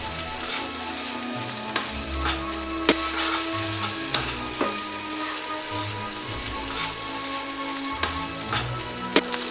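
Fried rice sizzles steadily in a hot pan after soy sauce goes in, a continuous crackle broken by occasional sharp clinks of a utensil against the pan, close and fairly loud with no talking.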